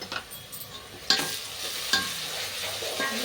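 Pepper powder stirred into chicken fried rice frying in a pan, with a steady sizzle under a few sharp scraping stirs of the spoon against the pan, close and moderately loud, no talking.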